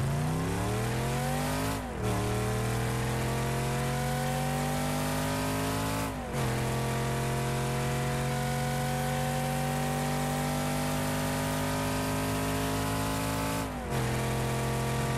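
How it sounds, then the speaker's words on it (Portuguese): A car engine from the video game Rocket League revs repeatedly, each pitch climbing steadily through the gears before abruptly dropping at a shift, loud and clean with no talking. "E tem mais um som de motor também que você pode conseguir no Rocket Pass, que é esse aqui, ó."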